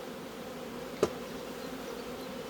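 A dense swarm of honeybees hums steadily while a package of bees is installed into a hive, a close, even drone with one brief knock partway through.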